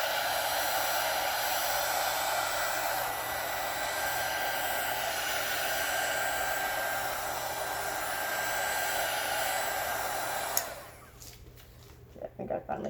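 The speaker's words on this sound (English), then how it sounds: "These heat guns don't look like they get very hot, but they do get pretty hot." A handheld heat gun blows a steady, loud rush of hot air over epoxy on a custom glitter tumbler for about ten seconds, then cuts off abruptly, leaving faint handling clicks and near silence.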